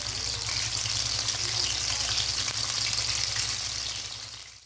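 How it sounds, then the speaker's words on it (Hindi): Chicken pieces frying in a karahi for Peshawari chicken karahi give off a continuous, even sizzle close by, fading slightly at the very end with no talking. "गोश्त अच्छे से फ्राई हो रहा है"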